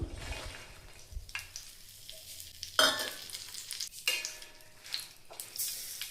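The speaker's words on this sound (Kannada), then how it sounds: "ನಾವು ಮೆಣಸಿನ್ಕಾಯಿನ ಎಣ್ಣೆ ಒಳಗೆ ಚಂದಾಗಿ ಫ್ರೈ ಮಾಡ್ಕೋಬೇಕ್ರಿ." Red chillies frying in hot oil in a pan for North Karnataka red chilli chutney, with intermittent sizzling that flares in bursts, plus a few sharp stirring scrapes and a clink against the pan, close by and without speech.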